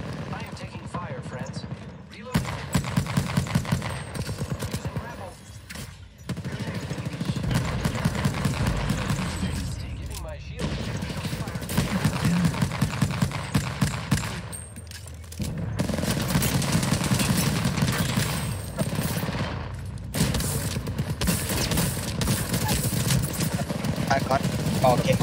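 Bursts of rapid gunfire crackle repeatedly during an Apex Legends Arenas match, including P2020 and Mozambique weapons, arriving in clusters separated by short lulls while players talk over much of it.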